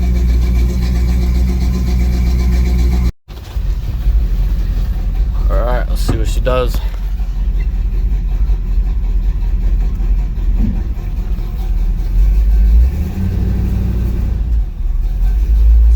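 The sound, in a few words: truck engine starting and idling to warm up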